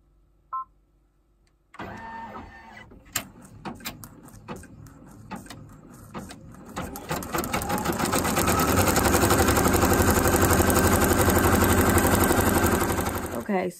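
An embroidery machine stitches out a volleyball template, starting with scattered mechanical taps and then building into a loud, dense, steady run of rapid needle strokes that fills the second half.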